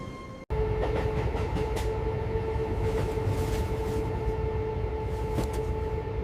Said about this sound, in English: The train to London is now arriving.